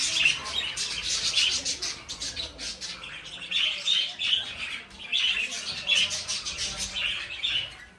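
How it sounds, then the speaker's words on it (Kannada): Many colourful birds, parrots among them, call and squawk in a zoo aviary in Gadag, with dense overlapping high chirps and tweets that are steady and fairly close, rising in bursts throughout. "ಇಲ್ಲಿ ಇದ್ರ ತುಂಬ ಪಕ್ಷಿಗಳವು"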